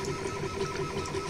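An RB3 3D printer lays down its first layers, giving off a steady, moderately quiet mechanical whir with soft stepper-motor tones that pulse gently as the head moves, and no voices.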